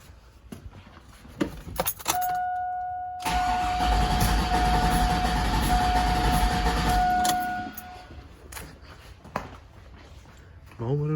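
A Cadillac Escalade engine cranking over with the fuel pump fuse pulled during a compression test: a loud, steady starter churn lasting several seconds, preceded by a high tone and followed by brief voices and clatter.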